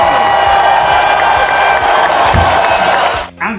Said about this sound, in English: Let's give her a big Newton round of applause.